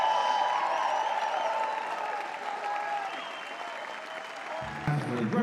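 A large audience applauds steadily for Commonwealth Games weightlifting medalists at a Pacific sporting event, a dense wash of clapping that holds throughout, with a brief thump near the end.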